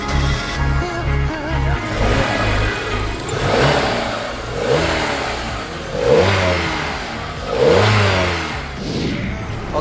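A Kia Carens engine running again after a fault was fixed, idling with several rising and falling revs in a steady rhythm, close and fairly loud, no talk.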